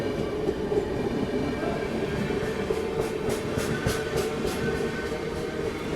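A Hampi Express train runs along the line with a steady, loud rumble of the rail car throughout. Faint rhythmic wheel clatter rises toward the middle.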